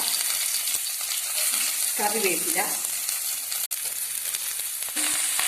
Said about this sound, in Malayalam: തിളച്ച എണ്ണയിലൂടെ കടുകിട്ട് പൊട്ടിയ ശേഷം